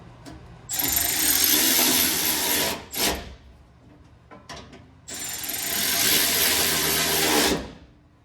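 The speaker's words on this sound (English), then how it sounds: "I'll go ahead and snug them down using my ratchet here" A ratchet snugs exhaust clamp bolts on a 2011-2014 Ford F-150 Raptor during a Corsa Xtreme exhaust install: two long, loud, close bursts of rapid clicking with short taps in between.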